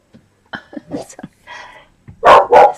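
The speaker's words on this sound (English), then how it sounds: "That is a bark alert." A dog barks twice loudly and close by near the end, after softer indoor sounds, indoors in a home with the dog in the kitchen.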